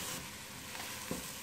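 Spiced chicken being stirred in a hot pot for Arabian chicken kabsa, with a steady close sizzle and scraping stir strokes running throughout.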